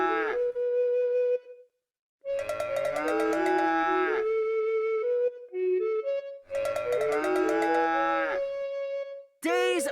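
Cartoon cows mooing in the PBS Kids Red Dog herding game, several long, drawn-out moos in a row with short pauses between them, clear and loud with no talk over them.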